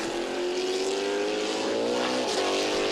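An F5000 race car at a New Zealand historic racing meeting howls past close by, its loud engine note steady and then dropping in pitch as it goes by, with more engine noise behind it.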